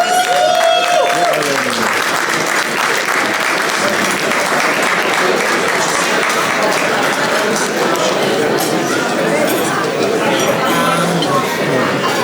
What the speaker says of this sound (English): if I could please have everybody a round of applause for this incredible gentleman